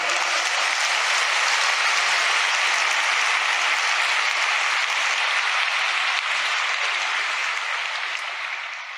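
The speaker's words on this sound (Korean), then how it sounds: "박수 한번 해보라고." Sustained, dense applause from a large audience at a convention-hall religious assembly, loud and unbroken for several seconds before gradually tapering at the end.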